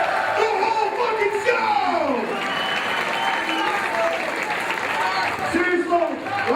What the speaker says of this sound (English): Big round of applause for Rob Van Dam!